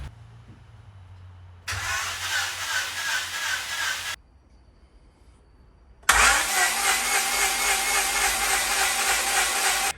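A Honda Civic EK with a D16A engine and OBD1 ECU cranking on a jumped battery: two loud, close bouts of steady starter whirring separated by a quiet gap, with no voices.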